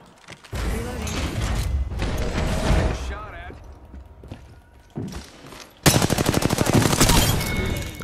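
Gunfire in the PS4 video game Apex Legends: steady automatic fire, a quieter mechanical pause, then a loud, rapid machine-gun burst close up, with someone talking over the shooting.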